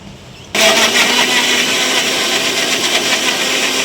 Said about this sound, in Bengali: আমরা মিক্সারে দেবো।